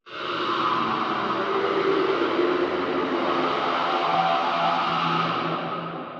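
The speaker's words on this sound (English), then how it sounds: "you can turn literally any sound into a cool texture that fills out the space by pitching it and time shifting it" A vocal recording pitched and time-stretched into a dense, sustained ambient texture, a steady broadband wash with soft tonal bands that swells in and holds evenly for several seconds, no voices on top.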